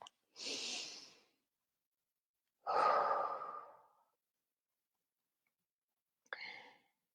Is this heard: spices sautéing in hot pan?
no